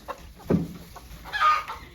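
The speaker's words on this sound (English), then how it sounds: "Chickens are coming too." Hens cluck in a messy coop at breakfast time, giving a few short, close clucks in two separate bursts over a quiet background.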